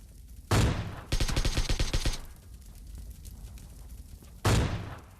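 Gunfire in the video game PUBG Lite, including an AWM sniper rifle: a loud single shot, then a rapid burst of repeated shots, quiet, and another heavy single blast near the end.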